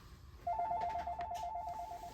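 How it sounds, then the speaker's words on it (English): A telephone rings with a warbling electronic trill that starts after a short quiet moment and continues steadily, moderately loud and alone. "answered that phone call and now I'm back"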